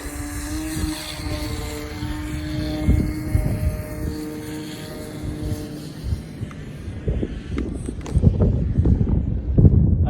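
A homemade RC plane takes off on a breezy day, its propeller motor holding a steady whine that fades as it climbs away, while wind buffets the microphone and people talk nearby.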